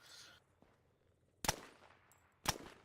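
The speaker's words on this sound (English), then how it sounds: "What are you shooting at?" Two sharp gunshots ring out about a second apart in the co-op video game Conflict Averse, loud against a quiet background with a brief noisy burst at the start.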